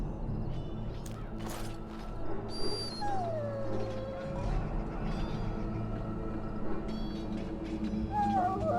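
A dog in Dragon Age: Origins whimpers and yips in short, pitched cries over low ambient game music, moderately close and fairly quiet.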